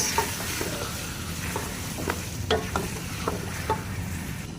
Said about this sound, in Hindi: गोश्त को डाल के हम 3 से 4 मिनट तक अच्छे से भुनेंगे।